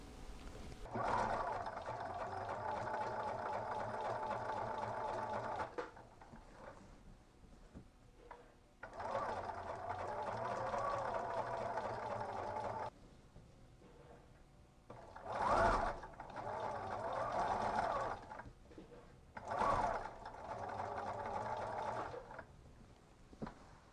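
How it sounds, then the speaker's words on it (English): A sewing machine runs a gathering stitch around a curved corner of a blackout curtain for a Pleasure Way Ascent campervan. It whirs steadily and close in several long bursts, separated by brief quiet gaps and fabric handling. "I am going to do a gathering stitch around the corner, around the curve"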